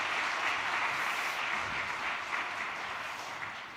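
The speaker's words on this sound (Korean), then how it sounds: "우리 뜨거운 박수로 주님께 감사의 박수 올리겠습니다" A church congregation at a New Year's Eve worship service claps warmly and continuously, a thick wash of many hands that stays steady and eases off slightly toward the end.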